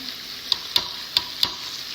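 Quiet, steady sizzling of tomatoes added to frying onion masala in a pan, with four sharp spatters or stirring clicks spaced unevenly across the moment.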